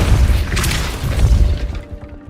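A Repulso spell blasts in Hogwarts Legacy with a heavy boom and crashing impact. Thudding rumbles follow and fade out toward the end.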